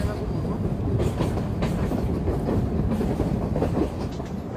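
A train runs along its rails with a steady loud rumble and faint clickety-clack, heard close as if aboard or beside the moving carriages, with no clear talk.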